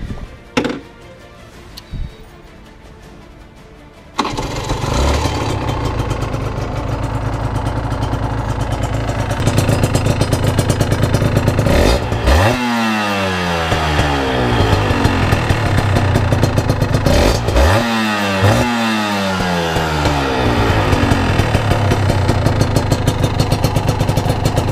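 A Honda NSR 125 motorcycle is heard first from quiet surroundings, then starting and settling into a loud, buzzing two-stroke idle, with two sharp rising revs blipped close by.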